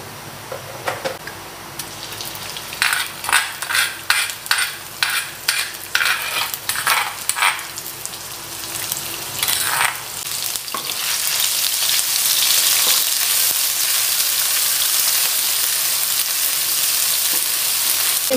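Cooking oil sizzling in a pan while batang keladi dishes are stirred, with rhythmic scraping strokes of the spatula early on, then a steady, louder frying hiss.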